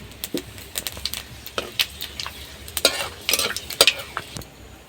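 Bay leaf, five-spice seeds and dried chillies sizzle in hot oil left from frying snakehead fish, with a soft crackle under frequent sharp clinks and scrapes of a spoon stirring in the pan.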